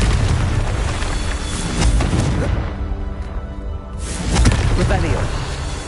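A magical blasting spell detonates in a loud, sustained booming explosion with crashing rumble, swelling and falling over several seconds, mixed with voices.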